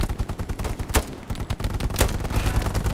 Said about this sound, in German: Das war ein Headshot, ich hab's gehört.